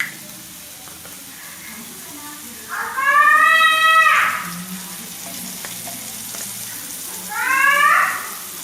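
Koduva (seabass) fish fries in oil in a pan with a steady, close sizzle throughout, broken by two loud, drawn-out cat meows.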